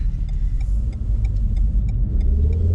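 A Renault Megane RS engine revs hard toward the top of its range, a loud, continuous rumbling growl from inside the car that climbs steadily in pitch.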